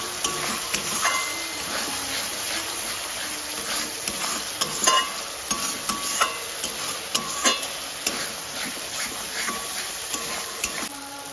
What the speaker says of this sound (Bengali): মশলা কষানো হয়ে গেছে